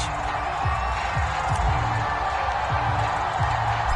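Steady stadium crowd roar from a Baltimore Ravens home game against the San Francisco 49ers in the EA Sports Madden NFL video game, a continuous loud wash of cheering with no clear breaks.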